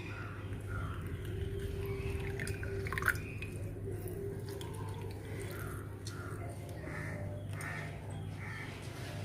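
Lemon juice squeezed by hand and dripping into a cup of violet hibiscus tea, heard as soft, sparse drips and plops over a low steady background hum, faint and close.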